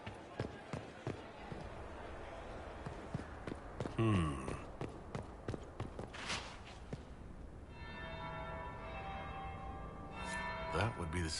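Church bells ring inside a fantasy video game on PS4, tolling amid game ambience, footstep-like clatter and character dialogue, with a sustained tonal ring emerging near the end.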